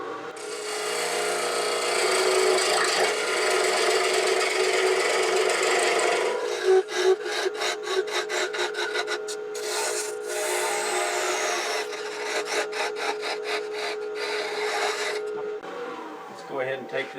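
Turning tool cutting excess cherry burl wood from the bottom of a pot box on a lathe, a steady rasping scrape that breaks into choppy intermittent cuts partway through, close and fairly loud.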